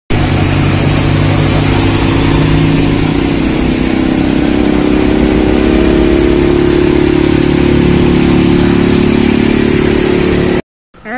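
A motor scooter engine runs loudly and steadily close by, a continuous buzzing drone with slight rises in pitch, cutting out abruptly near the end.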